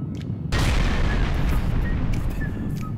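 Rocket explosion, a sudden loud boom after half a second of quiet, followed by a sustained rumbling roar that fades only slightly.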